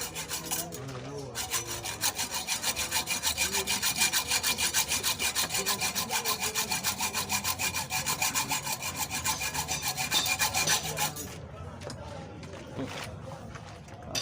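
Hand sawing through the leftover end of a homemade 8 mm helicoil threaded into a motor cylinder head, a close steady rhythm of rapid back-and-forth rasping strokes lasting about eleven seconds before stopping.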